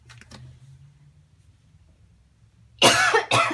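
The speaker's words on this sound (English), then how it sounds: "I was like having a bit of a coughing fit" A few faint throat sounds, a pause, then two loud harsh coughs up close in quick succession.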